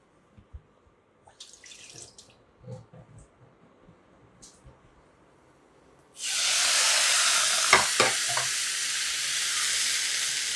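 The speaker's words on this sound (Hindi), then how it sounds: "ये जो पानी डाल रहे हैं हम लोग, ये सिर्फ इसलिए कि कोई मसाले जल ना जाए." Water is poured into spices frying in a pan, setting off a sudden loud, steady sizzling hiss midway through after quieter stirring and clinking, with a few knocks during the sizzle.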